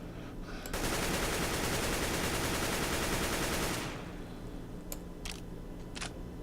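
A rifle fires a continuous spray in the game Counter-Strike: Global Offensive, a dense, loud rapid-fire burst lasting about three seconds before settling into quieter background noise with a few faint clicks.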